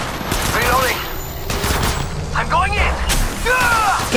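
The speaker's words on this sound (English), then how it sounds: "They spotted me. I'm taking shots." Rapid bursts of gunfire in the battle royale game Apex Legends Mobile, loud sustained volleys over the game's ambient sound, with short radio-style voice callouts heard among the shots.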